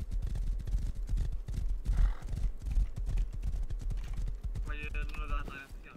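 A horse in the survival video game Rust clip-clops steadily across the ground, close and rhythmic, with a short whinny near the end.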